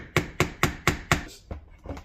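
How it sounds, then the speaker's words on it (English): A ball peen hammer strikes a flathead screwdriver used as a chisel five times in a quick, even rhythm, sharp and close, followed by a few lighter taps, while working on a Honda Integra limited-slip differential. "grab my tool of choice, random flathead that identifies as a chisel, and a ball peen hammer"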